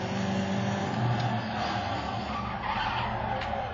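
Tires squeal and skid with engine roar from a car racing video game played on a Dell XPS M1730 laptop, heard through its speakers as a steady, moderately loud run of screeching and motor drone with no talking.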